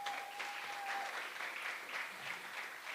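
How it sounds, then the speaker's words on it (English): Audience applause at a debate finals ceremony, a steady wash of clapping from a crowd heard at a moderate distance, fairly faint and continuous throughout. "Now you can clap."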